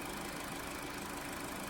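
A 2020 Hyundai Elantra engine running smoothly, a steady even hum with no knock, constant in level for a short stretch with nobody speaking.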